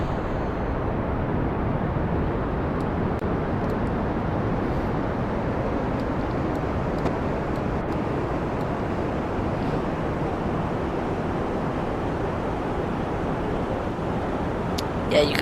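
Steady, loud broadband roar of a rocket engine throttled up in Kerbal Space Program, a continuous dense rumble holding level for the whole stretch without breaks.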